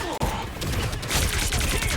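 Rapid shotgun blasts in the hero shooter Marvel Rivals, loud and dense, packed together with other gunfire and game effects over two seconds, with a voice faintly under the din.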